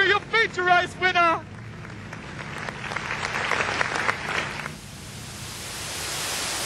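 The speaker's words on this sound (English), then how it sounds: "Put your hands together for him, folks" A speedway crowd applauds the Late Models feature race winner at Carina Speedway, scattered clapping rising under an announcer's voice at first, then fading into open outdoor noise.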